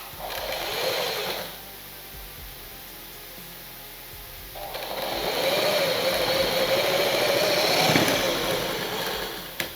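Sewing machine stitching blouse fabric for a Katori blouse, a steady mechanical whirr running in two bursts, a short one near the start and a longer, louder run after a quiet pause.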